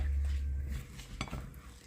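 A utensil scrapes and clinks against a pan, a few stirring strokes with a brief sharper knock near the end, close by.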